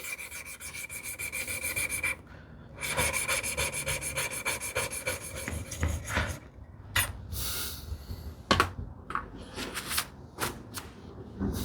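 A Stanley 78 plane part is rubbed back and forth on fine-grit abrasive, a continuous close rasping scrape broken by short pauses and a few sharper knocks.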